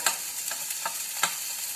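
Green chilies, ginger and garlic frying in oil in a wok, with a steady hissing sizzle punctuated by four or five crisp spatula scrapes at an uneven rhythm, close and clear.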